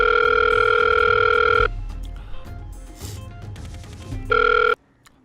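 A phone ringback tone sounds twice, a steady buzzing tone with a gap of quiet line noise and faint clicks between, ending in silence.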